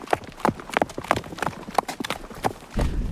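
A young horse being backed clip-clops along, its hooves striking in a quick, even rhythm of close, sharp knocks, with a low rumble building at the very end.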